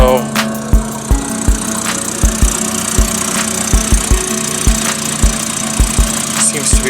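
A running engine with a bad exhaust leak idles with a steady rhythmic chuffing and ticking pulses, loud and close, with a raspy puffing quality throughout.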